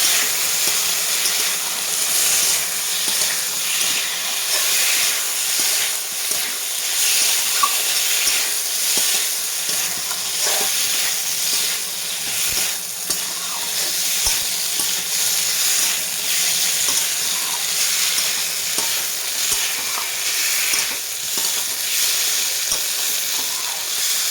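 A mustard and peanut paste is stirred into a potato peel curry in a pan, giving a steady, close sizzle and frying hiss with soft scraping stirs throughout and no talking.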